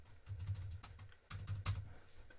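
Keys tapped on a computer keyboard while entering codes, in quick irregular bursts of clicks with a short pause midway, close and fairly quiet.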